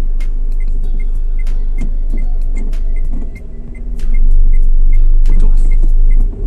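A learner driver's car engine is accelerating on a hill, a loud low rumble that swells and deepens midway, mixed with rattles and ticking clicks while a voice speaks briefly.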